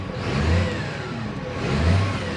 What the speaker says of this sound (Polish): Silniczek pracuje wzorowo, wkręca się